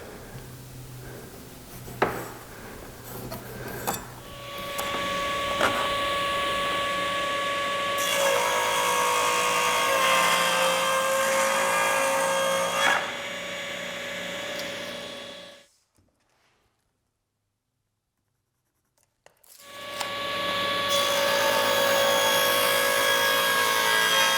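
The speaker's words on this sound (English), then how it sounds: "I set my table saw blade to a 45-degree angle, and then I cut the section using my miter sled" A table saw with its blade tilted to 45 degrees rips through a wood cabinet panel on a miter sled, a loud steady whine running for several seconds, stopping briefly, then starting up again.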